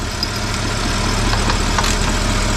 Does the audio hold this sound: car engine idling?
yes